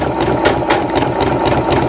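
A sewing machine running steadily up close while stitching a hem with a jump stitch, a loud, fast mechanical whir with rhythmic needle clatter and a few sharper ticks.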